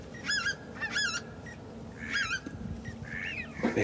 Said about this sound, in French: c'est un beau mâle de sarcelle d'hiver